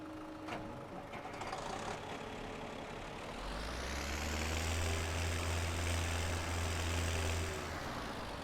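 A tractor engine in Farming Simulator 17 starts up partway through and settles into a steady, loud low drone with a smooth mechanical hum, following a quieter stretch of background noise.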